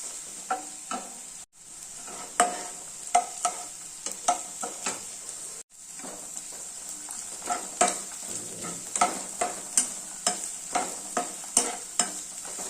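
Tamarind pieces sautéing in a pan on the stove, a steady high sizzle broken by repeated sharp scraping taps of a spoon stirring, loud and close, with no voices.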